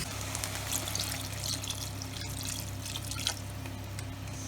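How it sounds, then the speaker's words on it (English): Water pours steadily into a soup pot of West African peanut stew with tomatoes, a continuous soft splashing rush over a low kitchen hum, with no voices. "I'm going to go ahead and throw in the water"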